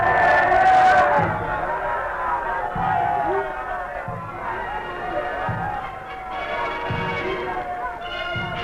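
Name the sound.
large crowd awaiting Emperor Haile Selassie in Jamaica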